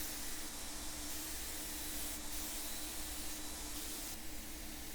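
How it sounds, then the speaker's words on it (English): A spray gun sprays gloss white paint onto cane chairs with a steady, soft hiss that stays even throughout and is heard alone without talk. "if you look at my spray pattern here, I'm really not putting on a lot of paint"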